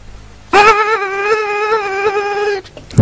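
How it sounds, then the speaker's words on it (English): Cartoon bees buzz around flowers: a steady, clear droning buzz that starts suddenly, holds for about two seconds with a slight wavering, then cuts off, with nothing else heard. "The bees collected pollen from the flowers nearby."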